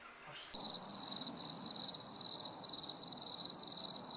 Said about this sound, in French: Bah non, avec les grillons.